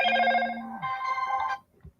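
A telephone rings indoors with a bright electronic tone: a steady melodic chime, a shift in pitch partway through, then a stop, loud and close with no talking.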